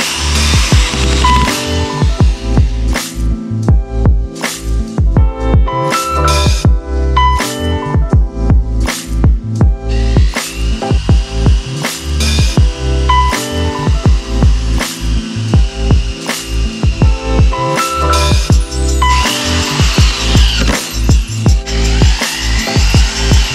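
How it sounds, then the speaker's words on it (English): Power drill boring pilot holes into very hard wood planks for a wooden mountain bike jump, a steady stream of loud, repeated sharp bursts and whirring with no talk. "I had to pre-drill holes before putting the screws in."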